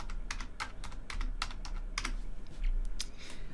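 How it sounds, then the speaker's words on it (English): Keys clatter on a computer keyboard as someone types a value into a spreadsheet cell, a brisk irregular run of light clicks, fairly quiet and close, with no talking. "You just click on the cell here and just type it in with your keyboard."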